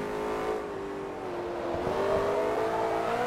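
A BMW M3 GTR in Forza Motorsport 3 revs hard under acceleration, a steady loud engine drone with rising harmonic tones that climb and shift through the run, heard alone without talk.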